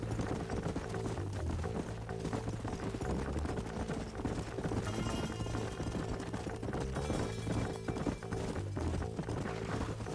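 Horses clip-clop steadily across rough ground in the Red Dead Redemption western video game, a continuous fast rhythm of hoofbeats blended with game music and ambience, no talk.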